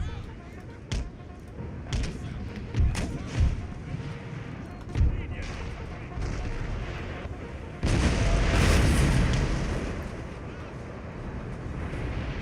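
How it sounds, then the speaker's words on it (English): Repeated heavy booms of cannon fire in the video game Empire: Total War thud at irregular intervals, followed by a sustained rumbling roar of battle, with a voice speaking over it. "So all cannons focus fire on the mortars."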